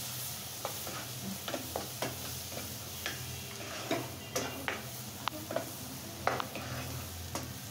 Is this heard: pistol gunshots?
no